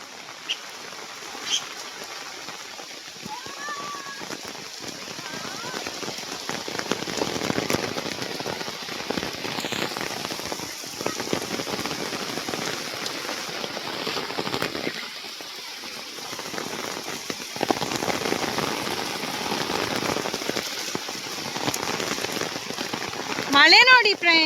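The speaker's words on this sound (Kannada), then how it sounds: "ಮಳೆ ನೋಡಿ ಫ್ರೆಂಡ್ಸ್, ಮಳೆ ನೋಡಿ." Heavy rain pours down in a forest, a dense steady patter on leaves and ground that lasts throughout, with a few louder cracks and brief voices under the downpour.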